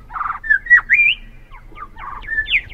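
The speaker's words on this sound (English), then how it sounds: "the mallee supports a tremendous variety of bird life" Several wild birds call in dry mallee scrub, a mix of buzzy rattling bursts, rising whistled notes and short chirps trading back and forth, fairly close and clear against a quiet background.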